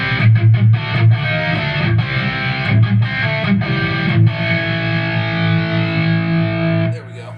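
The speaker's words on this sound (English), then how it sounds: "I actually get a pretty decent vintage crunch" A Fender Stratocaster electric guitar played through a Peavey 5150 amp set to a vintage crunch tone, loud and close, with chopped chords at first, then a long sustained ringing chord that cuts off near the end.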